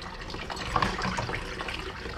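Hot water running steadily from a bathroom tap in a mobile home, a continuous splashing gush close by with no voices.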